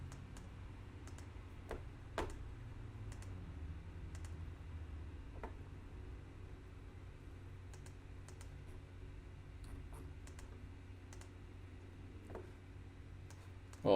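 Sparse, quiet clicks of typing on a computer keyboard, single keystrokes spaced irregularly over a low room hum, with a couple of slightly louder taps.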